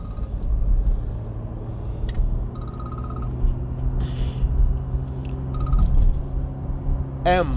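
A 1964 Aston Martin DB5 coupe drives along a road, its engine giving a steady low rumble with road noise throughout, a few faint clicks and a brief rising whine near the end.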